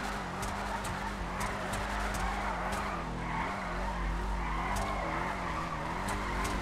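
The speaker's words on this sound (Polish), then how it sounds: "Muszę chyba powoli driftować, żeby wszyscy nadążali." Car drifting in GTA Online with steady engine roar and continuous tire squeal, held at close range throughout without any pauses.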